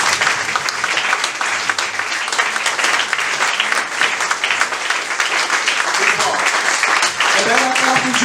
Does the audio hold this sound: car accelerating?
no